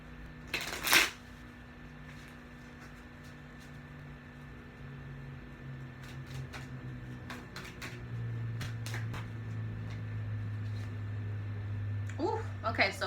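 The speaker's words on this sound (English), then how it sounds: "And shuffle one more time." Tarot cards are shuffled by hand with a sharp riffle near the start and quieter card shuffling later, set against a low steady hum in the room.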